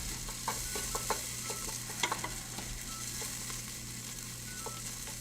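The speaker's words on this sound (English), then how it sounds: "Now I really gotta keep these onions moving." Onions fry in a pan with a steady close sizzle, while a utensil stirs and scrapes them in scattered clicks and taps over a low hum.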